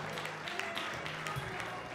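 An audience applauds at the official opening of Alphawin.bg, clapping steadily at a distance, with a voice heard over it.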